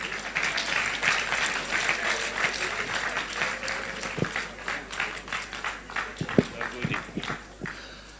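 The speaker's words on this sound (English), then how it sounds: "Let's keep clapping." Crowd applause at a Labour Party political gathering greeting Zaria Yusuf, a thick, continuous wash of many hands clapping at steady loudness, with a few sharper claps and faint voices near the end.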